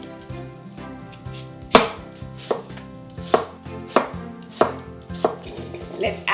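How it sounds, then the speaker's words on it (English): A knife chops apples into small cubes on a board, sharp regular knocks about once a second, close and clear with no talking. "I'm going to cut them into small cubes."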